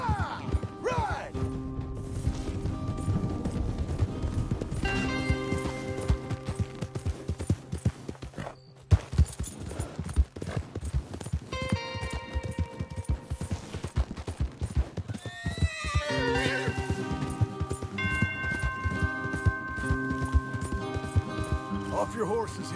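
Horses gallop in the Red Dead Redemption 2 video game, with rapid hoof clip-clops, occasional neighs and whinnies, and scattered crashes, mixed with in-game voices.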